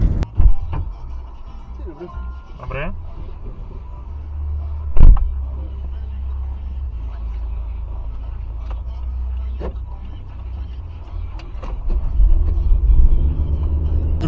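Toyota Prius working as a taxi drives along, a steady low road rumble and engine hum throughout with a few brief knocks and a swell near the end.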